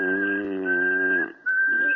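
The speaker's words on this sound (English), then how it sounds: "They say if you whistle in a monotone, maybe that'll work." A person whistles a single sustained, unwavering monotone note with a brief break near the end, close and clear, with no talking over it.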